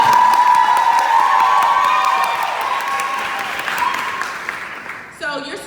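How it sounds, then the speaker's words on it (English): A large audience at a women's conference breaks into loud, sustained applause with cheering, the clapping fading gradually before a voice comes in at the end. "can we get like a little preview of how the ending applause will be?"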